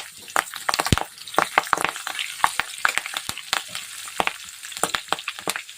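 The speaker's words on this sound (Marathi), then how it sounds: "जिरं बघा छान तळलं गेलेलं आहे आता त्याच्यात कळीपत्ता टाकायचा आहे" Curry leaves dropped into hot oil with fried cumin, part of making kande pohe, crackle and sizzle loudly in close, sharp bursts over a steady frying hiss, with no talking.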